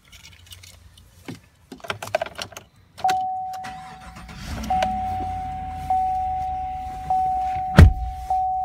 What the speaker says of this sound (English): Let's start this truck up here.